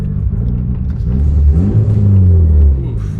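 Mitsubishi Evo engine revving up and settling back, a loud close low rumble with a rising then falling pitch across a few seconds, no talk over it.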